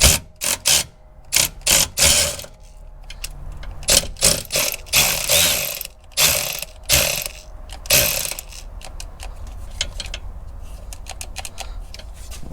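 Electric ratchet straining on rusty nuts of a Toyota 2GR-FE engine oil cooler line, loud close whirring bursts that start and stop repeatedly in short clicky runs, then settling into a low hum.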